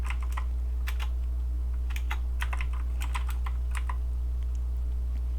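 Keys clatter on a computer keyboard as code is typed into a Unity script. The keystrokes come in irregular short bursts and single taps over a steady low hum, fairly quiet, with no talking.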